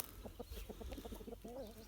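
Chickens in a garden cluck while pecking grain scattered at the foot of apple trees: soft, rapid clucks in a pulsing series, ending with a drawn-out warbling note, fairly quiet and close.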